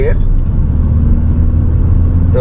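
A car engine drones loudly and steadily while accelerating through third gear toward about 3000 RPM, with someone talking over the low rumble.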